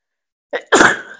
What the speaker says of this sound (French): ça commence bien si j'éternue